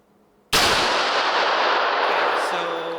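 A single sharp gunshot from a Rock Island Armory XT 22 Magnum pistol, loud and close, cracking out after a brief silence and ringing into a long decaying outdoor tail.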